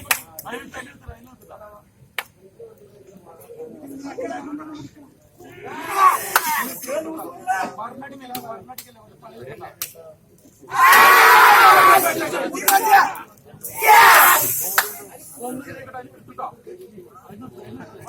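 A crowd at a match between two local teams in Palakkad breaks into loud cheering and applause in two strong bursts, following an announcer's amplified talk.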